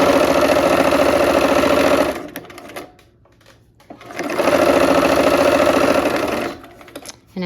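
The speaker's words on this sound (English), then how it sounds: "let's sew those seams" Sewing machine stitching quilt seams, a steady loud run of rapid needle strokes, pausing briefly for a quieter gap, then a second long run before easing off.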